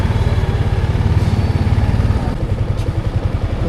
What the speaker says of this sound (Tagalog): Pero puro motor.